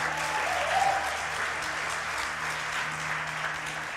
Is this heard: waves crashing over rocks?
no